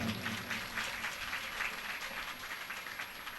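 A gathered audience at a religious discourse claps to welcome arriving guests, sustained dense applause of many hands for several seconds, fairly loud and uninterrupted by speech.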